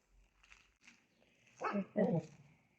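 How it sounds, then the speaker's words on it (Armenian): A dog barks twice, close and fairly loud, after a stretch of quiet rustling and soft background sounds. "եկավ հաչան։"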